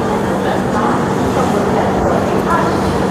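Sealdah Puri Duronto Express pulling out of platform 1 at Kharagpur Junction, a steady broadband rumble of rolling coaches and wheels on track, loud and continuous with a faint hum throughout.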